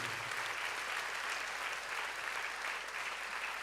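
A church congregation applauds the Virgin Mary during a worship service: a continuous, even wash of many hands clapping, fairly distant and steady throughout with no pauses.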